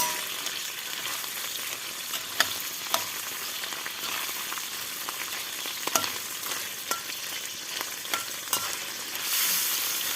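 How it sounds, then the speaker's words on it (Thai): Crab frying in hot oil crackles and sizzles in a continuous dense hiss, with sharp pops and occasional utensil knocks, fairly close and unaccompanied by talk. "ปูนี่เราทอดอย่างเดียวครับ"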